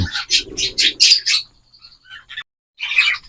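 A cockatiel at a breeding setup gives a quick series of sharp, bright chirps up close, then a brief pause and one more loud squawking call.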